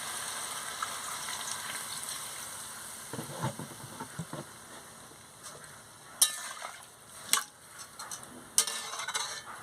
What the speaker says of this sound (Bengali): জল দিয়ে ভালো করে নাড়িয়ে নিচ্ছি